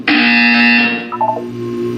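A loud, sustained electronic buzzer sounds in a Portal test chamber, blaring for about a second before fading into a softer tonal tail.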